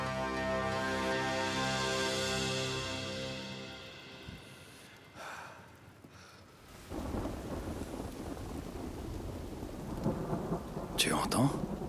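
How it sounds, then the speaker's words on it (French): A thunderstorm rolls through with loud rumbling thunder that fades, then steady heavy rain hissing on surfaces, with a sharp crack of thunder near the end. "L'orage s'éloigne."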